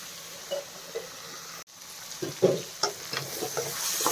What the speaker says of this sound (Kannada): ನೋಡಿ ಕ್ಯಾಪ್ಸಿಕಮ್ ಎಲ್ಲ ಇನ್ನೊಂದು ಇನ್ನೊಂದು ನಿಮಿಷ ಫ್ರೈ ಆದರೆ ಸಾಕು